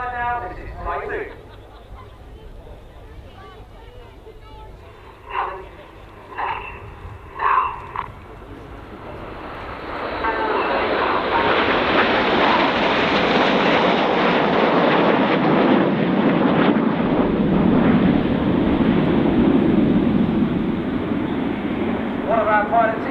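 A Typhoon jet flying at the RIAT 2013 air display; a commentator talks over quieter background at first, then a loud, broad jet roar builds and holds steadily to the end.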